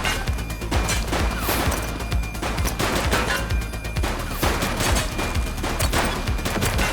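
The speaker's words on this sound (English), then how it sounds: "He's shooting!" Sustained rapid gunfire in the police video game The Precinct, a dense unbroken stream of loud shots and bangs filling the whole stretch with no talk.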